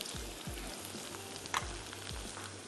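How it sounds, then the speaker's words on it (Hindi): Onions fry in oil toward a light golden colour for kofta salan, giving a steady close sizzle with a few low thumps from a spoon stirring the pan. "जो हमारी प्याज है इसको भी हम कर रहे हैं लाइट सा गोल्डन"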